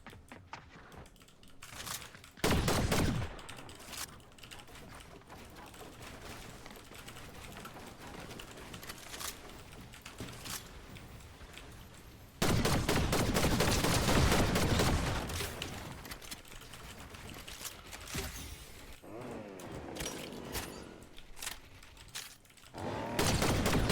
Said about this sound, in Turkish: Oradaki sağdan sıkıyor